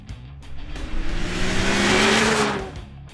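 A big four-stroke turbocharged Thundercat snowmobile accelerates hard, its engine note rising and swelling to a loud roar near the middle before easing off, heard close with no voices.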